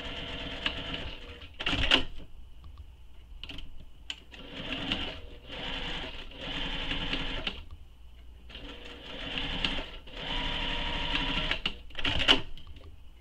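A sewing machine top stitches along the long folded edges of a fabric clutch, running in several steady whirring bursts with short pauses between them, close and fairly loud.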